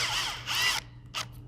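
A power drill bores a stress-relief hole through a cracked plastic windscreen washer reservoir from an Aston Martin, two close whining bursts of bit cutting into plastic with a brief pause between them.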